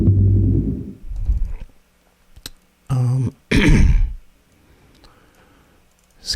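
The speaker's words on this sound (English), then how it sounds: "excuse me for clearing my throat directly into the microphone" A man clears his throat directly into a close microphone in several harsh, loud bursts separated by short pauses, then goes quiet with faint clicks.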